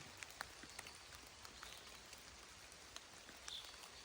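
Soft, scattered drips of rain patter in an open forest, with occasional louder drops landing nearby against a steady quiet wash.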